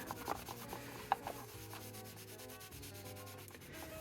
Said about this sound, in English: Now let's go ahead and buff that wax off.